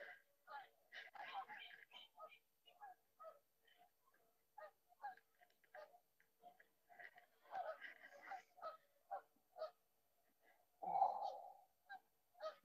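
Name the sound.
geese honking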